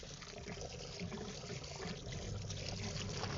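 Water wrung out of washed clothes by twisting, a soft continuous trickle and dribble of water pouring out, faint and steady throughout.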